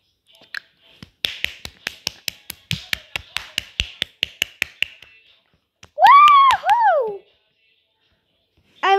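Rapid, evenly spaced claps from a character at a concert in the video game PK XD, a crisp run of about twenty sharp taps, followed by a brief bright synth chime.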